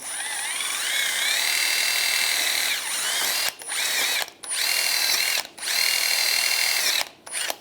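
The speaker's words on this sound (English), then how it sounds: "I'm just going to use a wire brush. Just clean up where the pad slides are going to sit." A wire brush, likely power-driven, scrubs rust off a front brake caliper bracket on a 2006-2009 Mercedes-Benz E350, a steady whirring buzz in several bursts separated by short pauses, loud and close.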